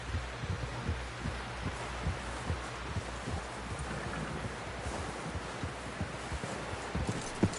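Horse hooves clop at a steady walking rhythm in the video game Red Dead Redemption 2, soft, low thuds repeating under a rustling outdoor ambience, fairly faint and without talk.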